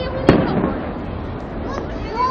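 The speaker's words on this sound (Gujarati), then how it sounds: "આમ જો ફટાકડા કેવા ફૂટે છે" Firecrackers burst outdoors, with one sharp, loud crack near the start and a fainter pop later, under the ongoing hubbub of nearby voices.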